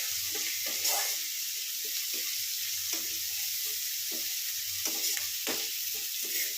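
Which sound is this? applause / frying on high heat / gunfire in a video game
frying on high heat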